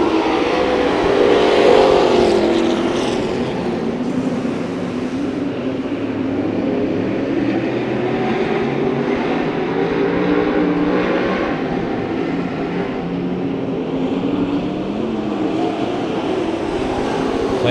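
Race cars run heats on the dirt track at Santa Maria Raceway, with a continuous pack roar of engines revving and passing, loud and sustained, with a slight swell near the start and no talk heard.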